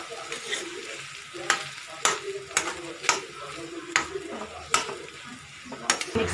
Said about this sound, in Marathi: आता हे सर्व आपण मिक्स करून घेणार आहोत.